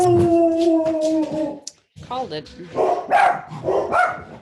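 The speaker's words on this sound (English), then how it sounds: "get ready for my dog to bark because somebody just came in through the door" A dog at home barks and howls in sustained and choppy bursts, loud and close, reacting to someone coming in through the door, with a person speaking over part of it.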